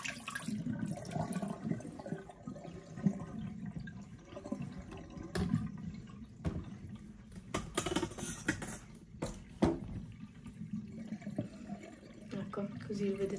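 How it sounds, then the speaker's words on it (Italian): Water gushes and splashes out of the drain hose of a portable mini washing machine, an uneven running trickle with clicks and knocks, while a person talks over it. "Tutta l'acqua che c'è esce da sto tubo, senza che voi fate fatica."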